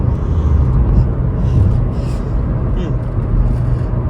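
A Honda car speeds up on a test drive, giving a steady, loud, low engine and road rumble that holds through the whole stretch with no clear breaks.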